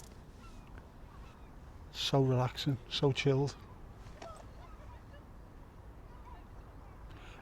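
Geese on Marine Lake in Southport give a short burst of loud, nasal honks at middle distance. Soft rippling water and quiet outdoor ambience surround the calls, and a person speaks briefly.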